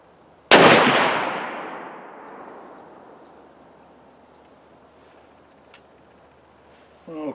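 A single loud gunshot cracks out from an S&S drilling rifle firing an 8x57JR reload, a sharp blast followed by a long fading echo, then a faint click and a brief rustle at the end.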